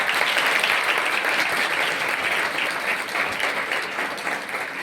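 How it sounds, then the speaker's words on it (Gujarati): An audience at a student development programme session claps loudly and continuously, dense applause that fades slightly near the end. "પોતા માટે તો જોરદાર તાળીઓ પાડી જ લેવાની"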